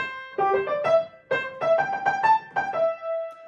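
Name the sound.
piano melody played with swing rhythm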